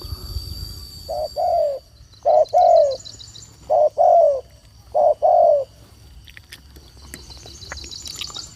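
A spotted dove coos in four repeated two-part phrases, fairly close, over soft background hiss and faint high chirps.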